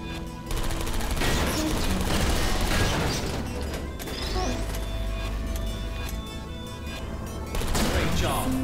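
Turrets fire in the Portal Stories: Mel video game, loud sustained bursts of rapid gunfire with mechanical clatter, broken by brief lulls and then resuming.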